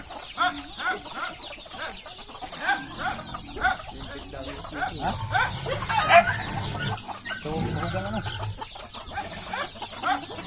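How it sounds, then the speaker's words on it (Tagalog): Native chickens cluck repeatedly in a busy farmyard with pigs, with scattered bird calls and a few faint voices in the background. "Daming manok eh."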